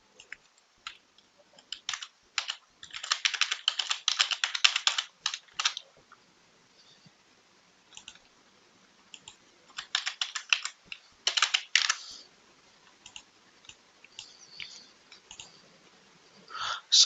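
Someone types login details on a computer keyboard, with bursts of rapid clicking keystrokes separated by short pauses, close and fairly quiet, with no talking.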